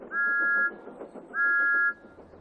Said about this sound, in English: Thomas's whistle sounds like this in the countryside.